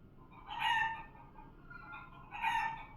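A domestic rooster crows twice, loud and near, with a quieter pause of clucky farmyard murmur between the two calls.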